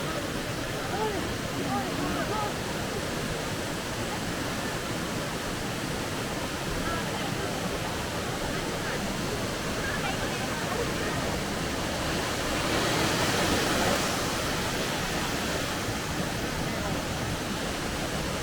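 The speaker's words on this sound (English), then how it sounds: "One of the top 100 waterfalls in Japan." Minoo Falls near Osaka, Japan, pours as a constant broadband roar of falling water, steady and fairly distant, swelling slightly midway with no clear voices over it.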